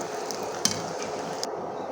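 Rice-based chips frying in shallow hot oil, giving a steady close sizzle with a couple of sharp clinks or taps, the bubbling cutting off abruptly near the end.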